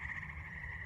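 Frogs croak in a steady outdoor chorus, a continuous close-pitched trilling that fills the short stretch alone at a moderate level beside a freshly mowed field.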